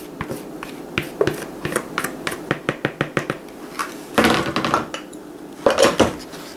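Dry ingredients being mixed into wet batter for zucchini bread, with repeated clinks and taps of a utensil against a bowl, a few louder scraping clatters, close and clear, with no talking.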